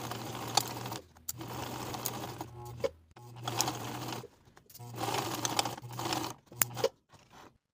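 A sewing machine bastes trouser pieces in place, running in several short bursts of steady stitching separated by brief pauses, close and fairly quiet with no talk.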